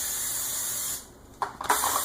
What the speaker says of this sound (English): So we're going to spray them